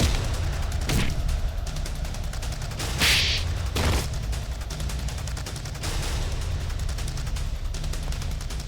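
Gunfire in a Hindi TV crime drama scene: dense, loud bursts of shots over a continuous noisy action soundtrack, with a few sharper louder cracks standing out.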